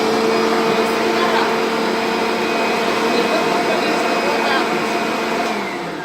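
Rainbow vacuum cleaner running indoors in a home, a loud steady motor whine with a tonal hum held throughout, easing off slightly at the end.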